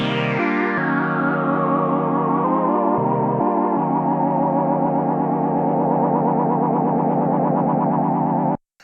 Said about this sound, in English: Flanger.